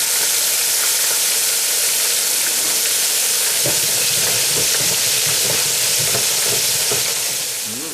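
Soft shell crabs deep-fry in hot grease with a loud, dense, continuous bubbling sizzle that stays steady for the whole stretch and fades slightly at the end.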